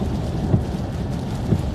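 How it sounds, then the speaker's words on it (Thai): Heavy rain with thunder roars in a thick, continuous wash, with low rumbling swells beneath it like distant thunder. "ข้างหน้าฝนตกอีกแล้ว"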